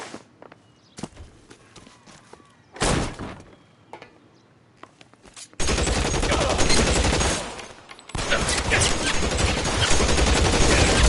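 Gunfire in the video game L.A. Noire, a few sharp isolated shots followed by dense sustained bursts of rapid firing that fill the second half, loud and close with footsteps between.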